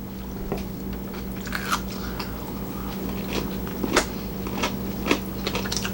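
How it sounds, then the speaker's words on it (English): Repeated crisp crunching bites into pickled radish at close range during a Korean chicken mukbang, irregular sharp crunches over a steady low hum. "I love the crunch."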